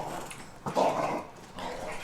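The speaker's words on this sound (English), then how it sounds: "If you could hear them grumbling behind me." Dogs grumble and growl while wrestling, a low close grumbling with one louder growl partway through and no voice talking over it.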